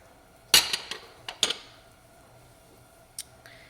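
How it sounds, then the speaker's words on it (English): A metal utensil pushes butter around a nonstick skillet, making a few sharp clinks and scrapes close by with quiet gaps between them. "we're just shoving a little butter around and we're not touching the metal"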